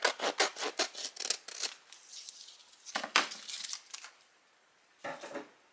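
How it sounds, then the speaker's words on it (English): Scissors snipping away excess sticky sheet from handmade magnetic bookmarks, a quick run of close, crisp cuts followed by two more short bursts of cutting with pauses between. "some of this excess sticky I'm going to go ahead and just cut off"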